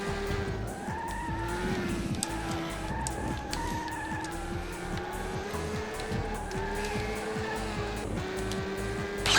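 A race car engine in the PS2 game Le Mans 24 Hours drones steadily at high revs throughout, with rising and falling pitch and a hint of tire squeal.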